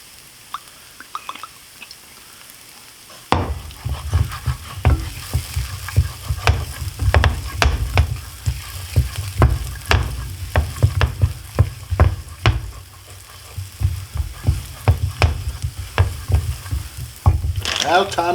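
Garlic fries in oil for Cajun shrimp pasta, quiet at first and then bursting into loud, crackling sizzle with sharp pops and stirring clatter that keeps going to the end.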